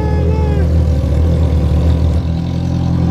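A Honda Hornet motorcycle exhaust drones loud and close with a steady, throbbing rumble that eases off slightly near the end, with a voice briefly over it.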